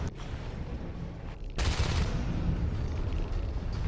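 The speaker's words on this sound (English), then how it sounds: "but the shotgun blasts are not landing" Shotgun blasts in the Natural Selection 2 game during a competitive match, dense booming fire that swells sharply halfway through and stays loud and continuous.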